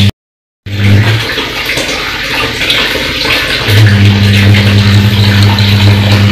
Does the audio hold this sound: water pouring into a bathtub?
yes